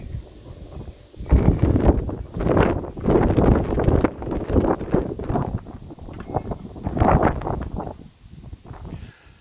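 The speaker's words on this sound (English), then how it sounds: "See how windy it is there." Strong outdoor wind buffets the microphone in loud, uneven low rumbling gusts that rise and fall over several seconds, with no speech.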